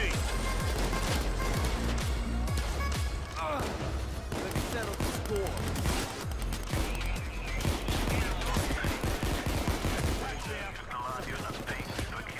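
Dense, relentless gunfire from a shootout in the game Payday 2, rapid automatic bursts and crashes stacking over one another for the whole stretch, loud and close, with someone shouting over the fire.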